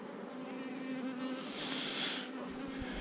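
Honeybees hum continuously at a hive, a steady close drone that swells slightly midway, with no talk over it.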